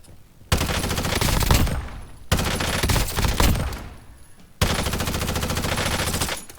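Automatic weapon gunfire in the video game Warzone, three long sustained bursts of rapid shots, loud and dense, separated by brief pauses, with no talking.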